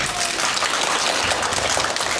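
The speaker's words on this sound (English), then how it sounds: "So, round of applause for her." Dense, loud audience applause fills a convention filk panel at Kumoricon, a continuous wash of many hands clapping with no talk over it.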